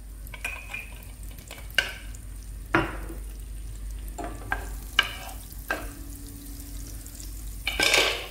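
Ghee melting together with a little oil in a pan for Algerian kebab, a faint sizzle under sharp clinks and scrapes of a utensil against the pan, close and uneven.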